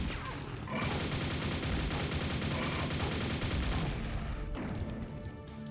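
Nail gun in the video game Quake fires a dense, sustained stream of rapid mechanical shots, loud and continuous, layered with crashing game effects before tapering near the end.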